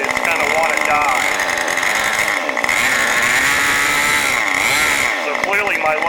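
OS 40 FSR model engine running rich at low throttle, a loud, close, buzzing drone that wavers and sputters unevenly, dipping briefly as if about to die before picking back up.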